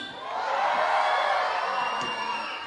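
A crowd at a children's performance event in Guagua, Pampanga cheers and shouts in one sustained, loud swell that rises and eases off, with no clear speech over it.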